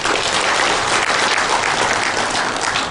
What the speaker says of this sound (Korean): 우리 박수 한번 보내주시기 바랍니다